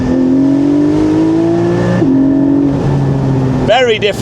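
Porsche 718 Spyder engine breathing through a Milltek exhaust with the valves open, a loud, close, rising drone that dips once as a gear changes and then climbs again, ending in a sharp rev sweep.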